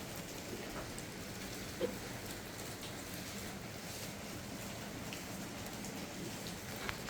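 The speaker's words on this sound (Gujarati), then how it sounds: "બહાર એટલો બધો મસ્ત મજાનો વરસાદ આવે છે" Rain falling steadily, a soft continuous hiss with a few faint drips, quiet and unbroken.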